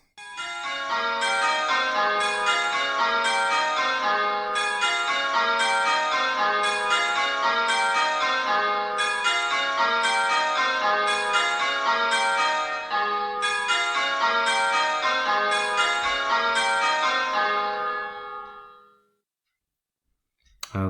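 A listening-test sequence of eight bell sounds rings out one after another in a steady, even rhythm, each a bright struck tone with a ringing tail, loud and clear, ending in a fade to silence.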